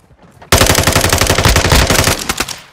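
Sustained automatic gunfire from a Call of Duty Modern Warfare 2 multiplayer match bursts in abruptly after a quiet moment, a loud, dense stream of rapid shots rattling on for about two seconds before thinning out.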